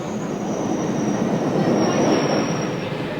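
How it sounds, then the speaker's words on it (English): A London Underground train rumbles steadily along the track, with a high metallic wheel squeal rising above the roar. "The London Underground is the world's largest and oldest subway system."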